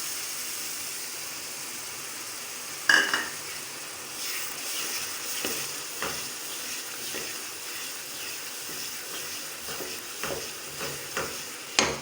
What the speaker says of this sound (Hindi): अब टमाटर का जो हमने पेस्ट बनाया है वो ऐड करते हैं।